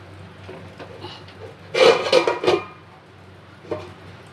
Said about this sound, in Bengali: এর মধ্যে আমি এটা কড়াইটা বসিয়ে দেবো।